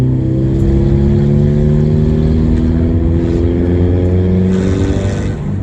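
A loud, raw car engine with a homemade stainless steel exhaust and no silencer drones and climbs steadily in pitch, revving continuously without pause, harsh and close.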